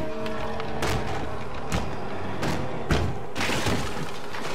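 A series of heavy shotgun blasts in the video game Little Nightmares II, several loud booming thuds spaced a second or so apart over a dense, rumbling ambient game soundscape.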